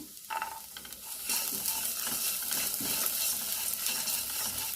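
Onion and garlic sauté in a pan with a close, steady sizzle, preceded by a brief stir and clatter at the start.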